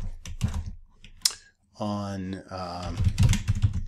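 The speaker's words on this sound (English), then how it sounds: "Just type in whatever you're looking for, whatever problems you're having." Keystrokes tap out on a computer keyboard in quick, uneven bursts, with a voice speaking over and between the clicks.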